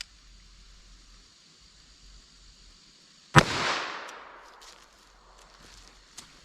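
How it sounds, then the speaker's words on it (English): A .32 H&R Magnum revolver fired into a ballistic gel block: a single sharp, loud report after a quiet lead-in, followed by a decaying echo, then a faint click near the end. "So let's try our 32 H&R Magnum and see how they compare now."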